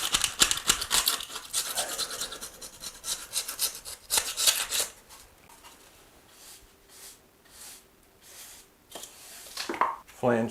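A tool scrapes excess tar off an old shower drain flange in short, rough strokes, loud and close, then pauses with quieter scuffs before a few more scrapes at the end.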